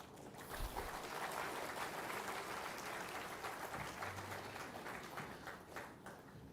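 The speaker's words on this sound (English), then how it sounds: "give yourself a well-deserved good round of applause" Faint, distant clapping from graduates at a degree distribution ceremony, a steady wash of applause lasting several seconds without clear voices.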